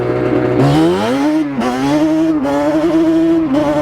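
A Yamaha Banshee engine idles high with a loud, close, steady buzzing drone whose pitch wavers and dips slightly a few times, with no voices present.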